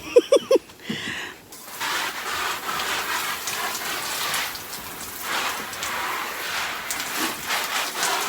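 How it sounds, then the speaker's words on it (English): Steady outdoor rain falls after a week of heavy downpours, a broad continuous hiss with patter that holds for several seconds after a few brief sharp knocks at the start, fairly close and moderately loud. "I can't believe the amount of rain we've had for the last 7 to 8 days."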